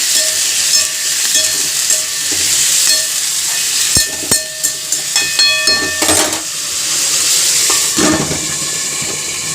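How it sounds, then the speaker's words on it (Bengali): Potatoes for aloo posto go into hot oil in a kadai, producing a loud, steady hiss and sizzle with a burst of clattering and spitting crackles midway, and no talking. "পোস্তর আলুগুলো ছেড়ে দেবো। এই যে আলু পোস্ত করবো।"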